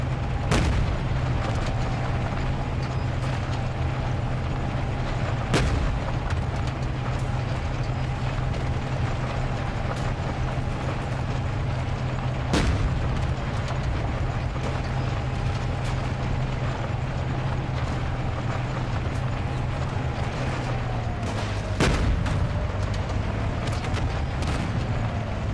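Tank cannon fire in a video game: a few isolated sharp booms spaced several seconds apart over a steady low engine rumble, with no talking.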